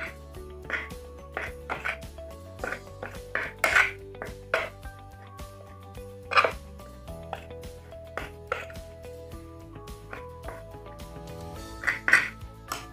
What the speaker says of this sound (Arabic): ودلوقتي هنخلطهم بالمعلقه